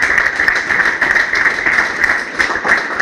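An audience at a medical school white coat ceremony in Kenya claps steadily, dense and loud applause filling the hall with no pause.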